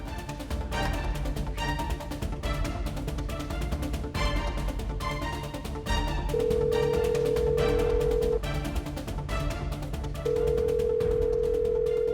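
An unanswered phone call rings out as two long, steady ringback tones, each about two seconds, sounding in the second half over continuous background music in a TV drama scene, with no one speaking.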